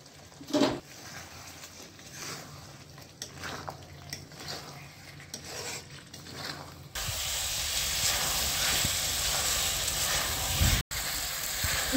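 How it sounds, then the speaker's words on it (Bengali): Large-cut onion, tomato and green chillies go into a pan for chicken do-pyaza, with a few light clinks at first, then a loud, steady hissing sizzle that takes over the second half. "এবারে আমি এই বড় করে কেটে রাখা পেঁয়াজ ও টমেটো দিয়ে দেব। সাথে কয়েকটা কাঁচা লঙ্কা দিয়ে দেব।"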